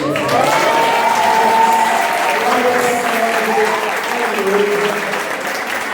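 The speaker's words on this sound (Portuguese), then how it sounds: "Quero também pedir que você aplauda aqueles irmãos que fizeram esse cenário aqui maravilhoso." During an Easter service, a church congregation gives loud, sustained applause, with vocal tones and voices mingled into the steady clapping throughout.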